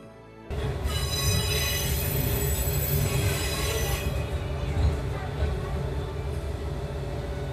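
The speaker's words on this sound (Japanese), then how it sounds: "列車はゆっくりと掛川駅の天浜線ホームに滑り込んでいきます。" Tenryu Hamanako Railway train wheels screech in a high, sustained metallic squeal over the rumble of a rolling railcar as the train pulls into Kakegawa Station, Japan, loud and continuous as it slows.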